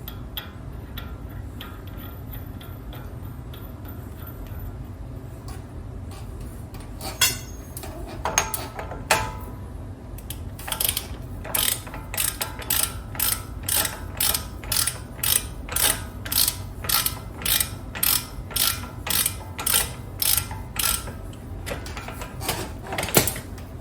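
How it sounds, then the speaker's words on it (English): Tightening the axle nut back onto a third-generation Toyota Tacoma wheel hub, heard as a run of close, evenly spaced metallic ratchet clicks that begin sparse and settle into a steady rhythm over a low background hum. "We'll get the axle snugged back up."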